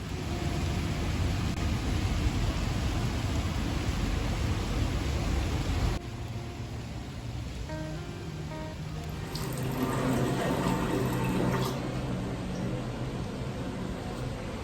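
A tap runs steadily into a sink while a homemade face mask is rinsed off, a continuous close hiss of flowing water that shifts slightly in tone partway through as hands move under the stream.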